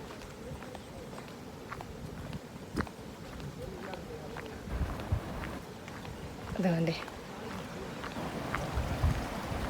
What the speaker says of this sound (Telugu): మీకు సౌండ్ వినిపిస్తుంది చూడండి, వాటర్ ఫ్లో.